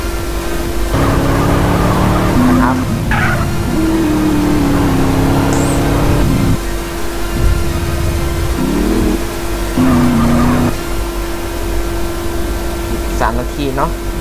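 A car driven in GTA San Andreas hums with a steady engine drone and a shifting pitch as it revs, with game effects layered on and someone talking over parts of it.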